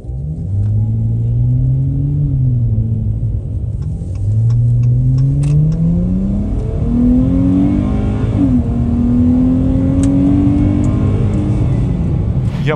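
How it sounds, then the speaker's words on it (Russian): Dodge Challenger with a 3.6 engine and controllable exhaust revving steadily, a deep loud rumble rising and falling in repeated rev sweeps, close and continuous with no talk. "Я пожелаю удовольствия от звука выхлопа"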